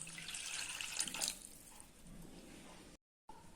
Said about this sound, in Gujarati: હવે આપણે આમાં થોડુંક પાણી નાખીશું।